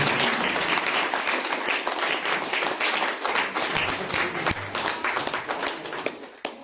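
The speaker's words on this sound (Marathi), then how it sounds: "आपल्या टाळ्यांचा कडकडाट करून" A seated audience at a public meeting breaks into loud, dense applause that carries on steadily, then thins into scattered claps near the end.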